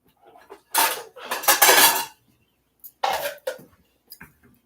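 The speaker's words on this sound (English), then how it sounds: "Then I'll take silverware. I'll take a couple of bowls." Silverware and bowls rattle and clink as they are packed for a bike tour, several bursts of metal cutlery jangling against dishes, close and loud, with brief pauses between handfuls.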